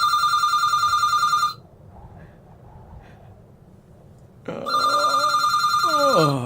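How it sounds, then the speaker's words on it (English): A telephone rings with a sharp electronic trill, pauses for a few seconds, then rings again, with a voice briefly heard as it resumes. "the phone starts ringing."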